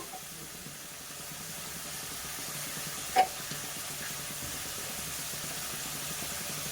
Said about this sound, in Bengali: দেখুন বন্ধুরা চিংড়ি মাছটা ভাজা হচ্ছে